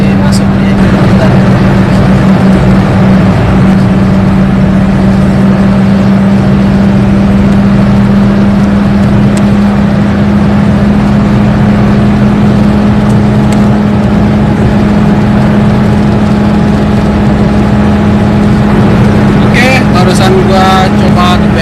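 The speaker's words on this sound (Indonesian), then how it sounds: "Gua coba geber Honda Brio tipe E 2014 di jalan tol Palembang Indralaya" A 2014 Honda Brio E 1.2 engine drones loudly at high speed on the Palembang–Indralaya toll road, a steady strained hum with road and wind roar throughout, and faint talking near the end.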